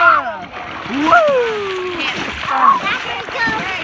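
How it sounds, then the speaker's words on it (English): Water splashes onto a backyard slide in short, uneven bursts while excited kids shout and talk loudly close by. "keep splashing water on here"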